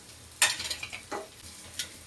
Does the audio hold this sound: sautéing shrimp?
yes